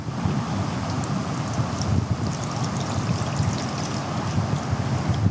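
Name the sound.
homemade hair oil poured through a strainer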